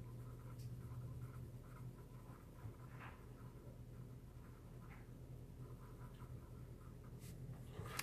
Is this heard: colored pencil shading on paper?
yes